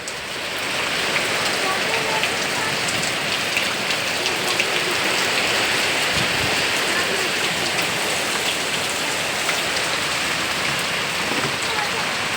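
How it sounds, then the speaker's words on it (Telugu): Heavy rain pours steadily in an Andhra village, soaking the trees, a dense, constant close-up hiss of drops drumming on surfaces with no break from start to finish. "ఎంత గట్టిగా వర్షం పడుతుందో"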